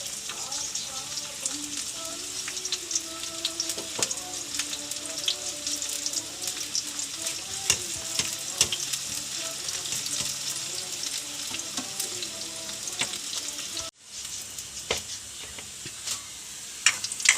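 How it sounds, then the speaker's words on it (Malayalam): Onions fry in hot oil in a pan for a dried prawn and mango curry, giving a steady close sizzle with scattered crackles and pops that briefly dips near the end. "എണ്ണ ചൂടായി. ഉള്ളി ഇടണം."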